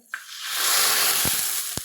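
A sudden burst of hissing sizzle as mustard seeds hit hot oil, sustained and loud, with a couple of sharp pops.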